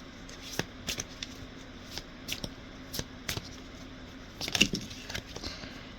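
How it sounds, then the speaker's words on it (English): Moonology oracle cards being shuffled by hand, a run of soft papery riffles and flicks close up with a louder burst of card snaps near the end, no voices. "Let's go and look at the Moonology cards and see what we have here"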